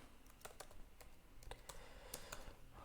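Computer keyboard keys tapped in short irregular bursts of clicks while working in photo-editing software, close and fairly quiet, with no voices.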